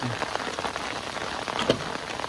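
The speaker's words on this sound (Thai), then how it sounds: "ฝนตกแล้ว" Steady rain pattering on a surface beside a riverbank fishing spot in Thailand, a continuous dense hiss of drops with a few louder nearby splats, no voices.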